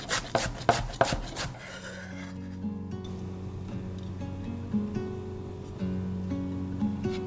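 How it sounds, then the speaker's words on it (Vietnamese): A knife chops spring onions on a board, a burst of quick, loud, close chops at the start giving way to quieter rhythmic cutting and soft rubbing. "Trước tiên mình cắt nhỏ hành lá này ra để lát nữa mình trộn vào trong bột nha các bạn."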